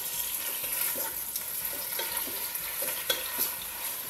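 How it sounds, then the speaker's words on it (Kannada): Chicken korma frying in a little oil over a medium flame, a steady close sizzle with soft repeated stirring scrapes in an even rhythm and no talk. "ಸ್ವಲ್ಪ ಎಣ್ಣೆಯಲ್ಲಿ ಅದು ಫ್ರೈ ಆಗಲಿ"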